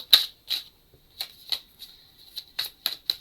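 Tarot cards being cut and shuffled close by, a series of crisp, papery snaps and riffles in uneven bursts roughly every third of a second, heard alone with no voices.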